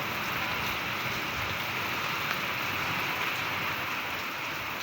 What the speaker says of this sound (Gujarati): જોઈને કેવો વરસાદ પડે